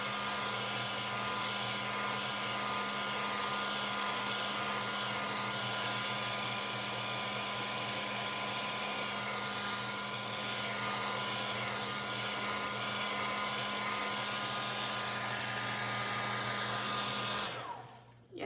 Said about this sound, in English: And here's the hair dryer again